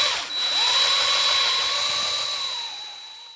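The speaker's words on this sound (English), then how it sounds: "drill out the core." A power drill bores out the core of a wooden knob, a steady whining spin that rises quickly, holds for a few seconds and slowly winds down, close and alone.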